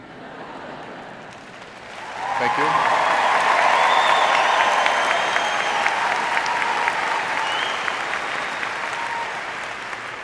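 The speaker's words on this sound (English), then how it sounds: "I really wanted to receive a warm applause here" Warm applause from a commencement audience fills Matt Knight Arena at the University of Oregon, swelling suddenly from a quieter room into loud, sustained clapping that carries on evenly, with a speaker briefly talking over it.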